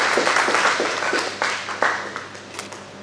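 Audience applause at an award and prize-giving ceremony as a recipient is called up for a commemorative shield, a dense wash of clapping that swells and fades over about three seconds with a few sharper claps standing out.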